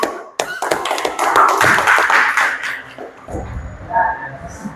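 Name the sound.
applause, clapping hands in a classroom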